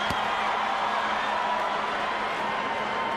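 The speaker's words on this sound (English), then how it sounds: "Crowd rising in energy as Randy Newman prepares to summon the fighters to the center of the ring" Boxing arena crowd at the Holyfield versus Byrd fight roars steadily as the fighters enter the ring, a dense, continuous wash of cheering and whoops that holds level throughout.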